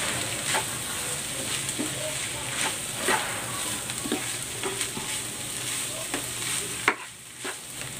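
Chicken and tofu sisig with chilies stir-frying in a pan, a steady close sizzle under repeated scraping stirs, ending with a sharp knock and the sizzle dropping away.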